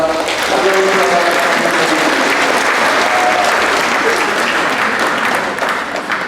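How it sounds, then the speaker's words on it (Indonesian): Applause from the congregation at a Catholic wedding mass, sustained crowd clapping that fills the whole stretch at a steady, loud level. "mari kita berikan aplaus kepada"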